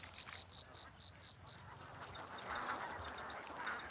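Ducks in a rice paddy quack faintly at a distance, scattered calls over quiet outdoor ambience, with a short run of high chirping pulses early on.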